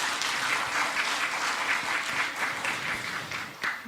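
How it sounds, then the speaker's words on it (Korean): Audience applause at a committee activity report meeting on extending the GTX-C rail line to Cheonan, a steady indoor clapping wash, moderately close and fading slightly at the end, with no talk. "이경석 단장님께 다시 한번 큰 박수 부탁드리겠습니다"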